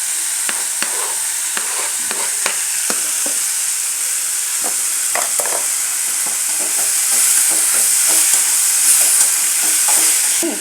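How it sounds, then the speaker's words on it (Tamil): Onions and tomato sautéing in a pan for a mudakathan keerai chutney, a loud steady sizzle with frequent quick scrapes and taps of the spatula throughout, rising a little toward the end. "நல்லா ஓரளவு பொன்னிறமாக வர வரைக்கும் நல்லா வதக்கி விட்டுக்கணும்"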